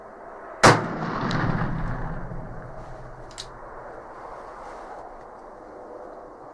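One sharp, loud gunshot from an Uberti Colt Dragoon revolver rings out outdoors, then a long, fading echo trails away, followed by a faint thump or two.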